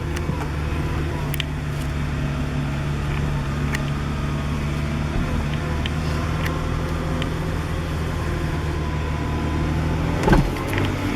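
Steady engine and road rumble from inside a moving 1998 Acura Integra that is shaking and bucking, with a brief louder clunking knock near the end; no talking.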